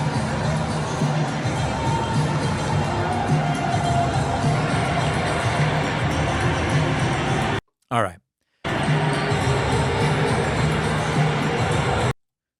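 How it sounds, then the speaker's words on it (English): A large event crowd booing: a loud, sustained roar of many voices that cuts out briefly partway through, returns, then stops abruptly, with a short spoken phrase. "they start booing, they start playing louder and louder music to cover it"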